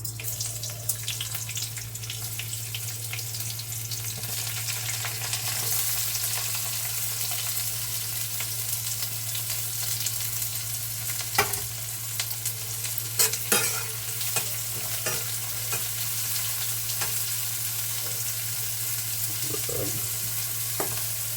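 Tempering spices sizzle in hot oil in a pan during cooking of sour-jaggery cluster beans, a steady broadband frying hiss with occasional sharper crackles and pops, close and continuous throughout with no talk.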